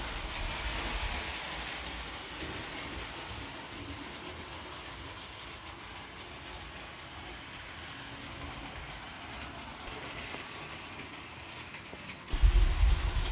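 A model train runs around a curve and over a trestle on a home layout, a faint steady clickety-clack and whirring that continues for over ten seconds before a louder bump near the end.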